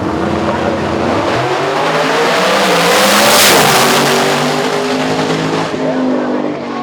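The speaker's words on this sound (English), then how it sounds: "Motor City Jimbo in the left lane, going up against my man Scotty G in the right lane in the Camaro." Drag race cars, one of them a Camaro, launch with roaring engines and screeching tires at a radial-tire qualifying event, a loud, sustained blast that swells and fades as they pull away.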